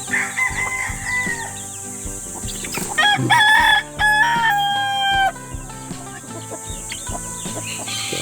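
Farmyard chickens cluck close by, and a rooster lets out a loud, drawn-out crow in the middle, with scattered clucks before and after it.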